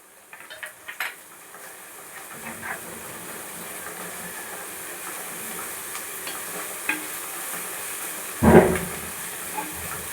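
Ginger garlic paste frying with onions in a pan for a kadamba fish gravy, a soft steady sizzle with a few scraping stir clinks and one louder clatter near the end.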